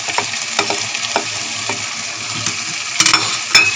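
Khoa is stirred into carrot halwa in a frying pan, a soft sizzle under repeated scraping strokes of a spoon, with a couple of sharper scrapes toward the end and no talking.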